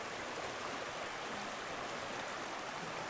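Gregg Fork stream in Yellowstone's Bechler Canyon flowing steadily, a faint, even wash of running water with no voices.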